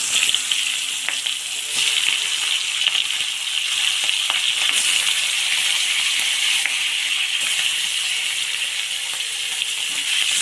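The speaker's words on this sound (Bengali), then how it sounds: "তেলের উপর মাছ ছেড়ে দিলাম" Fish rubbed with salt and turmeric frying in hot mustard oil in a kadai, a bright, steady, close sizzle that holds for the whole stretch with small crackling pops.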